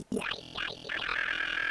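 Gurgly, gremlin-like spectral wavetable synth patch for drum and bass jump-up, with sweeping, wobbling formant motion that warbles up and down and then settles into a buzzing sustained tone, heard alone.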